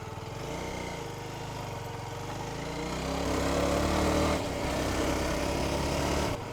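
A fully built ST Scrambler motorcycle engine runs steadily and close, its rumble swelling slightly midway with no talk.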